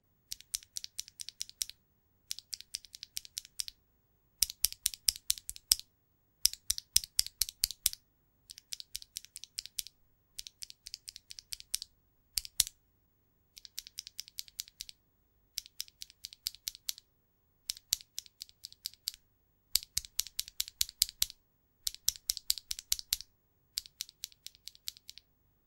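Typing on a mechanical keyboard fitted with KTT Hyacinth linear switches, crisp clacky keystrokes in quick runs separated by short pauses, close and clear with no talk.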